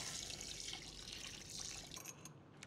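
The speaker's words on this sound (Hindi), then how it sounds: "अब इसमें डालते हैं मटन का स्टॉक" Mutton stock pours into a pot of paprika stew for a Hungarian goulash, a steady close splashing trickle that carries on for a couple of seconds and then tapers off, with no talking.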